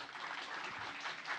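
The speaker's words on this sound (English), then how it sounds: "please give a round of applause for our speakers" Audience applause for the speakers at a talk, a soft, even patter of clapping heard briefly from a distance.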